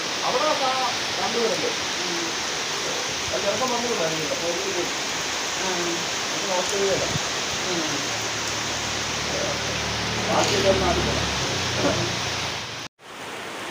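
Heavy rain pours down in a steady, dense roar that fills the whole stretch, broken only by a sudden cut near the end; no voices are heard.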